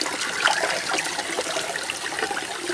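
Creek water rushes and trickles continuously over rocks, a steady, fairly loud broadband flow heard up close with no voices.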